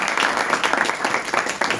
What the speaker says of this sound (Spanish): quiero que demos un fuerte aplauso para Rubén.